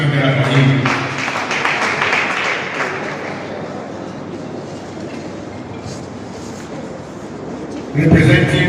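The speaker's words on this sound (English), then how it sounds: "Please put your hands together for him." Applause from an audience at an Edo State government event breaks out loud at first, then thins into a long, steady patter of clapping, with a fresh burst near the end.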